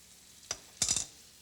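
Diced tomatoes dropped into a pan deglazed with wine and shallots, a brief soft clatter followed by a short burst of sizzling, close and alone.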